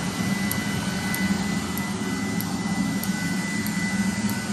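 A 30k BTU multi-fuel personal heater for an M35A2 deuce and a half truck running on its low setting, with a steady, loud whooshing roar, a constant hum and faint periodic ticks.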